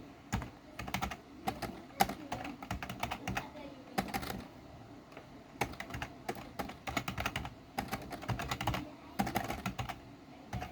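Code is typed on a computer keyboard in bursts of quick, close, crisp keystrokes with short pauses between clusters, steady and fairly quiet throughout.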